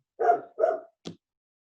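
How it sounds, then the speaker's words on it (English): A dog barks twice in quick succession, then gives a shorter, clipped third bark, close by against silence. "She just sits outside this little window and just barks at nothing."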